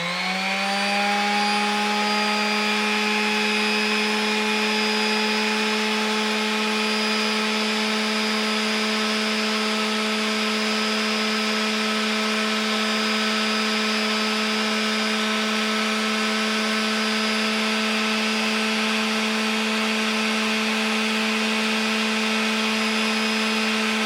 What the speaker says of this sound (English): You might be able to see how high it spikes when I first power up the palm sander.